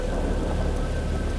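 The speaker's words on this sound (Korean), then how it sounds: "억수같이 쏟아지는 빗소리" Heavy rain pours down steadily outside at night, a dense continuous wash with a low thunder rumble underneath, loud and unbroken throughout.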